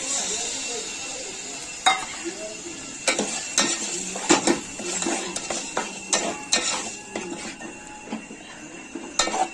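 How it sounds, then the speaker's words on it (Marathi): Ground wet masala paste frying in oil for Konkani-style chicken rassa, stirred in a pan: a steady sizzling hiss under repeated metal clinks and scrapes of the spoon against the pan, close and fairly busy. "आता हा वाटण तेल सुटेपर्यंत त्याला आपण फ्राय करून घेणार आहोत"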